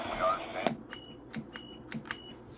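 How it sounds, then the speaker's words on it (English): Ranger-style roger beep from a Galaxy DX86V CB radio: a few short, thin electronic tones spaced about half a second apart, quiet and close, with soft clicks between them. "It's typical Ranger Roger beep."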